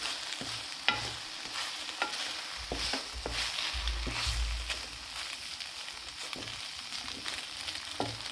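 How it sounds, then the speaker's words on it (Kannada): Maggi noodles with Maggi masala are stirred in a hot pan, a soft sizzle and fry running throughout, broken by repeated scraping and tapping strokes of the spoon, close and fairly quiet. "ಮ್ಯಾಗಿ ಮಸಾಲ ಹಾಕಿ ಸ್ವಲ್ಪ ಕಲಿಸ್ಕೊಡ್ಬೇಕಾಗುತ್ತೆ"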